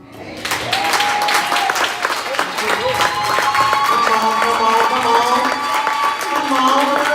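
A congregation claps steadily through a Sunday morning worship service, the sustained applause filling the room while voices sing and call out over it.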